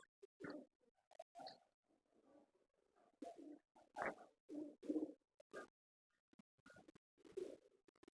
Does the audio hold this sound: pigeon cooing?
yes